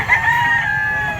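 A single loud, close rooster crow rings out at an outdoor chicken market, one sustained call.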